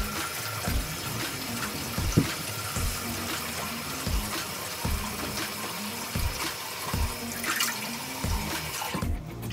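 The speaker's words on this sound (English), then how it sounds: "But first, I'm just gonna wash my face." Tap water runs steadily into a sink while someone washes their face, a continuous splashing stream with occasional louder splashes and drips close by, heard alone without talk.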